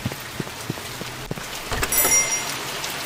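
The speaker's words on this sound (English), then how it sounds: "It's raining." Steady rain pours down in the horror game The Mortuary Assistant, a continuous hiss of drops with a few soft thuds and clicks from the game over the top, and nobody speaking.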